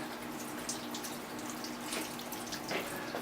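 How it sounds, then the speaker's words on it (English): Water dipped from a tank is poured over a paper honing blade, a steady close wash of splashing and trickling that runs alone without pause. "I dip out of the tank. Rinse the top of the blade."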